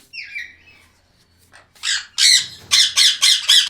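A pet parrot kept by a bird seller lets out a string of loud, harsh squawks, a few isolated calls first and then five or six rapid bursts close to the listener, with no talking.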